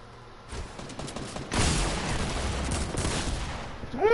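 Bursts of game gunfire crack out in a dense, sustained volley, loud and close, with a sharper blast midway and no voices over it.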